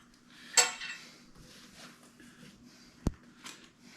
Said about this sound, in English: I'll start by assembling my machine here, my grinder.